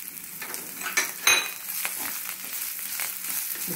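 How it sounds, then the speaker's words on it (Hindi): Garlic cloves, ginger, coconut, curry leaves and green chili fry gently over low heat with a soft, continuous sizzle. Occasional stirring knocks and scrapes of a utensil against the pan sound close by. "इसको हमें भूनना है थोड़ी देर, गुलाबी होने तक। धीमी आंच पर ही हम इसको भूनेंगे।"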